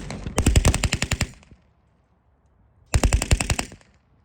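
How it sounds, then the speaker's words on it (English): A German MG42 machine gun at a wartime reenactment fires two loud, close bursts of rapid shots, separated by a short silence, each burst a fast ripping string of reports. "There's a German machine gun on the top of the field, which is MG42, one of the fastest firing machine guns."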